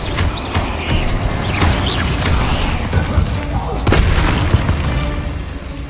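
A dense, loud rumbling Bombarda spell blast in the game Hogwarts Legacy, with a sharp boom near the end amid crunching, creaking and game effects.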